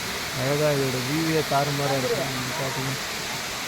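Water pours down Killiyur waterfall in Yercaud as a constant rushing hiss, heard under someone speaking close to the microphone.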